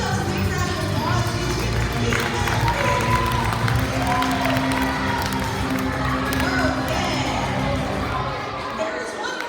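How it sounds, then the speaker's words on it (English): A crowd of children at a school assembly cheers, shouts and claps continuously, loud and lively, with overlapping voices throughout. "Give yourselves a big round of applause."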